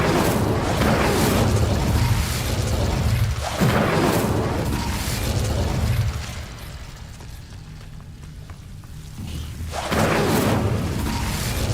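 Fiery Incendio spell cast in Hogwarts Legacy, heard as a loud, sustained roaring blast with bursts and booms that swell, dip midway, then surge again near the end.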